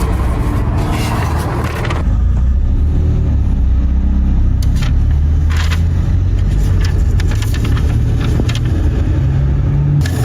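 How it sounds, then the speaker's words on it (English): Loud aftermarket exhaust on a car idling during a police traffic stop, a deep steady rumble that stays close and strong throughout, with no talking over it. "It's not because of your loud exhaust."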